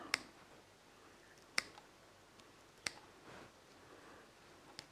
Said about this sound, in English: I'll get a scissor. And then we'll just cut off the legs.